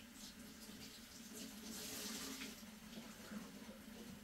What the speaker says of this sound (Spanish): aquí lo voy a humedecer con agua calientita